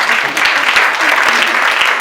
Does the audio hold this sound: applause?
yes